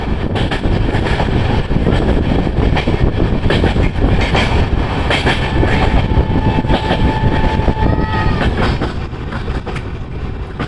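The Azimabad Express, an Indian Railways train, rolls out of Kota and over the Chambal River bridge, a loud continuous rumble with dense rattling clatter of wagons and a brief high squeal near the end.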